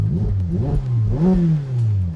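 Ferrari F8 Tributo turbocharged V8 supercar engine revving in a few quick rising and falling blips, close and loud, with no talk.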